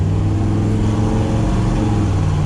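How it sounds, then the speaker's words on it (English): A big red truck's engine drones loud and close from inside the cab as the driver gives it more gas, a steady low mechanical roar holding its level throughout. "He gave it a little bit more gas, shifted to third normally."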